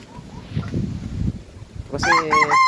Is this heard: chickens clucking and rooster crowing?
yes